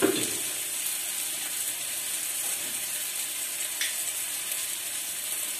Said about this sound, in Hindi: मैं इसे मसालों को अच्छी तरह से भून लेती